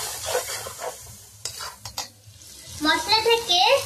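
Ground chili, cumin, turmeric and salt fry in oil for a mustard pabda fish curry, a crackling sizzle with spoon scrapes and clanks against the pan, growing louder toward the end.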